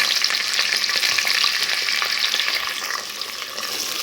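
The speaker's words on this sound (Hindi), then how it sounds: "अब मैंने डाल दिया तकरीबन 2 स्मॉल साइज़ के थे प्याज। ये डाल के करते हैं इनको फ्राई।" Onions frying in hot oil for a beef and potato curry, a loud continuous sizzle with stirring scrapes that eases slightly partway through.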